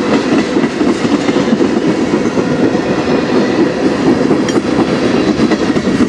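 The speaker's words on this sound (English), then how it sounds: "My first train in a few days." A train passes on the Strathroy Subdivision railway near Sarnia with a loud, steady rolling rumble and rhythmic wheel clatter close by, unbroken throughout.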